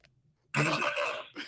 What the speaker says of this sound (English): You got to clear your throat a little bit.